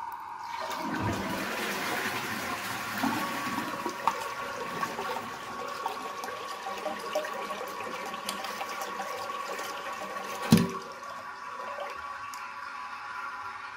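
A toilet cistern, cleaned with detergent and a sponge, is flushed and empties in a long, steady rush of water. A brief knock comes near the end before the flow fades.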